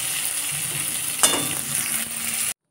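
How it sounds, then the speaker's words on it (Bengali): Eggplant frying in oil with a little salt and turmeric, a steady close sizzle with bright crackling spatter, one louder stir or turn partway through, cut off abruptly near the end. "বেগুনটার মধ্যে একটু হালকা করে নুন হলুদ দিয়ে ভাজা করে নিচ্ছি।"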